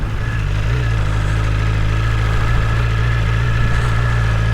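A 2022 BMW S1000R Sport motorcycle engine runs while still cold, a loud, close, steady idle with a deep low hum and a constant mechanical buzz, no voices over it.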